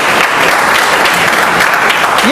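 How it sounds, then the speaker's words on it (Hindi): An audience at a Vestige training event breaks into dense, loud applause that keeps going for the whole stretch, with a voice faintly mixed into the crowd noise. "ताली बजनी चाहिए, नहीं बजनी चाहिए।"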